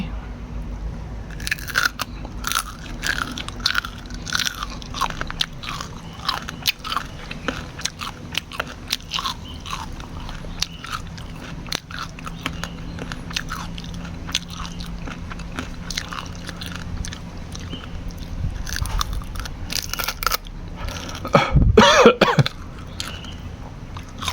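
Grilled, pounded buffalo skin is bitten and chewed close up, giving a long stretch of crunchy, crackling bites and steady chewing, with a coughing or throat-clearing burst near the end.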